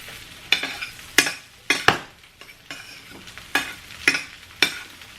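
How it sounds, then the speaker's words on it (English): Sweetbreads fry in salted butter in a pan, with a quiet sizzle under repeated sharp bursts of stirring and utensil scraping, about eight in five seconds. "I'm cooking them in salted butter right now"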